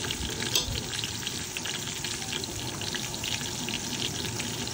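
Finely chopped tomatoes and turmeric powder fry for pigeon pulao, a steady close sizzle and crackle with faint stirring throughout.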